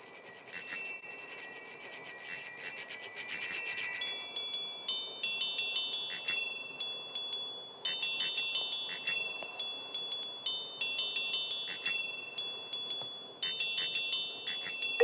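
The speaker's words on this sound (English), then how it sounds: "I actually made a synth from a bicycle bell" Synth tones sampled from a bicycle bell ring out in bright, metallic repeated notes, first as a dense cluster and then as a steady rhythmic pattern of sharp pings with ringing decays, loud and clean with no talking.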